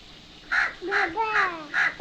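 A voice imitates a crow's caw with four evenly spaced, moderately loud 'caw' calls over about a second and a half against a quiet indoor background.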